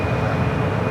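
An Air Canada airliner taking off at San Francisco airport, a broad steady engine roar with a thin high whine, loud and continuous through a very short stretch.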